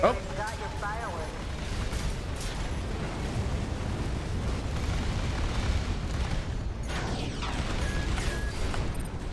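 Explosions from the mech combat game Armored Core VI boom and crackle in dense bursts over continuous rumbling, with a voice talking over the action.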